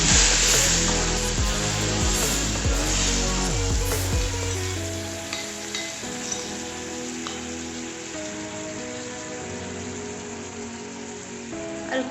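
Onions and spice paste for a rohu fish dish sizzle steadily in a pan, a loud continuous crackling fry that settles slightly softer after a stir partway through.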